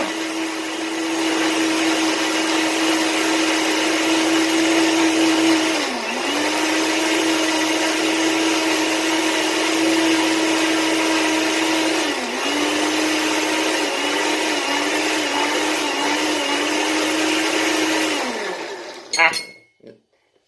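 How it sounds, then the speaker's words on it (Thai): A blender purees passion fruit juice with a loud, steady motor whir that sags briefly twice, then stops with a clatter near the end. "จากนั้นนะครับเราก็ปิดฝาแล้วก็กดปั่นครับ ปั่นให้ละเอียดนะ"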